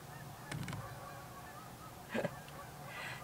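A flock of birds flying over an overnight camper van spot, giving faint goose-like honks in two short bursts against a quiet outdoor background.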